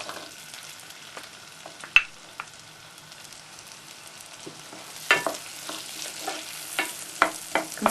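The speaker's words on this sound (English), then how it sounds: "Then add the onions" Onions sautéing in hot olive oil or melted butter in a medium pan over medium-high heat, a soft close sizzle broken by sharp spoon or pan clacks and stirring scrapes, no voices.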